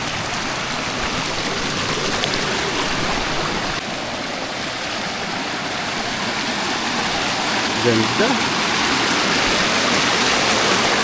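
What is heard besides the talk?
waterfall at Candies Falls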